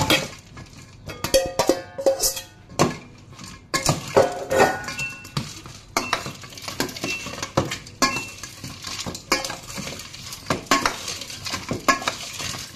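Chicken feet being dropped and moved into a container for pickling, with clinks, clatters and stirring-like rustles repeating at an uneven pace, close and fairly loud, no talk.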